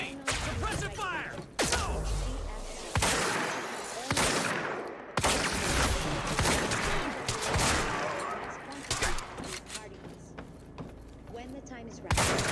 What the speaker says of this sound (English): Cover me! Suppressive fire!